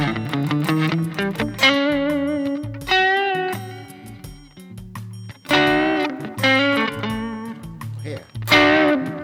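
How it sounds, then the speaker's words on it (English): Danelectro Pro electric guitar in maroon, played through a Tube Screamer overdrive pedal, rings out in clear, loud picked notes and chords with a warm, mildly driven tone, phrases rising and decaying alone. "put a tube screamer on."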